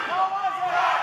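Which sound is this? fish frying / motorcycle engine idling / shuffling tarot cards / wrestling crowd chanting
wrestling crowd chanting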